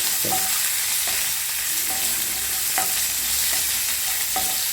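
Capsicum fries in ghee in a pan, a loud, constant sizzle with several distinct spatula taps and scrapes spaced through it.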